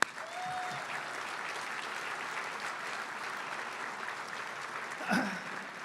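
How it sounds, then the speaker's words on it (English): Applause from the audience at an awards dinner, a dense, even wash of clapping from a roomful of people that holds steady for several seconds. "So please, team, round of applause."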